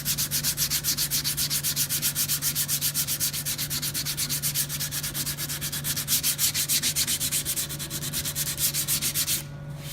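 Steady hand sanding of primer with coarse 80-grit sandpaper, a rhythmic back-and-forth scratching rasp repeating quickly and evenly up close, stopping briefly near the end.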